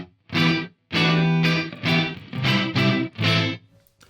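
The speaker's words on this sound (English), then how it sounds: "That's actually a really good reverb to use in a mix to make something pop and stand out without really washing out a mix." A voice or sound passed through iZotope Neoverb reverb comes in several loud, rich bursts of about half a second each, separated by short gaps, with a dark tail hanging after each burst.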